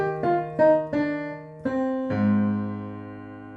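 Solo piano plays a short phrase from a song: a few clear struck notes over a held low bass, ending on a sustained, ringing chord, close and alone with no voices.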